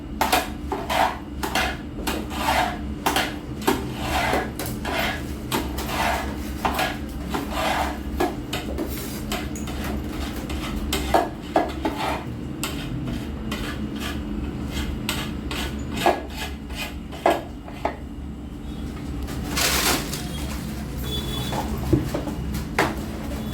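In a laddu workshop in Kankavli market, a poha and jaggery mixture is stirred and scraped in a metal pan with loud, rapid, rhythmic rasping strokes close by, continuing steadily with occasional harder clanks.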